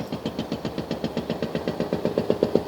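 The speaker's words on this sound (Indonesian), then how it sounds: "Nah ini harusnya suaranya masuk sini ya untuk breakernya" A hydraulic rock breaker hammers at an emergency dam repair site, a steady run of rapid, evenly spaced impacts over a rumbling engine, fairly close and growing slightly louder.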